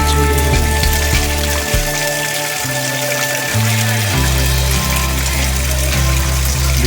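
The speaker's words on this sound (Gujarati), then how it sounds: "ખૂબ વરસાદ પડી રહ્યો છે." Heavy rain pours down in a steady, loud, unbroken hiss, with low droning tones running underneath and no voices.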